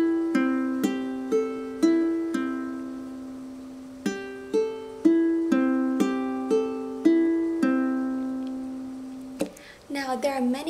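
Ukulele fingerpicked in a repeating four-one-two-three pattern, clear plucked notes ringing close and alone, ending with a quick flurry of strums.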